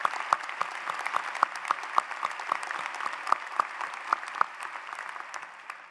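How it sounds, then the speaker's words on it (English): Audience applause at a university commencement for Governor Jeb Bush, a steady wash of many hands with a few distinct nearby claps standing out, fading slightly at the end. "Won't you join me in another round of applause for Governor Jeb Bush?"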